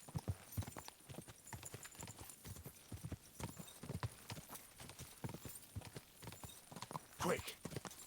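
Horse hooves clip-clop at a steady quick rhythm in the medieval video game Kingdom Come Deliverance 2, close and fairly clear, with a faint whinny and little talk over them.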